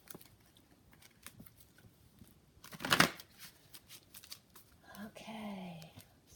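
A Kipper deck of fortune-telling cards is shuffled in a few soft riffling bursts, with one louder flurry midway and brief quiet patter between; a voice murmurs faintly near the end.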